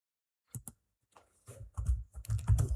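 Keys clack on a computer keyboard while a name is entered in video-editing software: two quick isolated taps, a pause, then a denser run of keystrokes close to the microphone.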